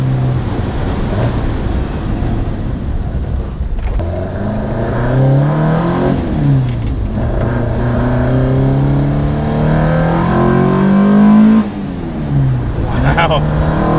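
An Alfa Romeo 1750 GTV with 190 horsepower revs loudly while driving, its engine note rising and falling steadily through gear changes, heard from inside the car with a voice talking over it.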